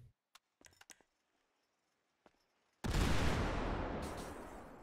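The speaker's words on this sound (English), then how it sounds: "now we'll go ahead and we'll put in maybe a grenade or something," Grenade blast in GTA 5 FiveM with a custom weapon sound mod: a few faint clicks and taps, a pause, then a sudden loud explosion with a long roaring rumble that slowly fades.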